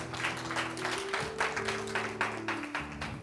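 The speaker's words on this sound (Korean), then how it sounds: "우리 격려의 박수 한번 부탁드려요" A room full of people applauding in a steady, moderately loud patter at a church youth service, with a low sustained organ-like tone underneath.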